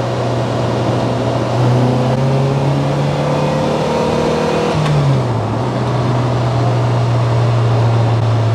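A Lotus Elise S1 engine drones steadily while driving, the pitch holding, then dropping through a shift midway and climbing again, heard from inside the car without talk.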